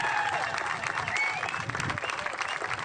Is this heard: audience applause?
yes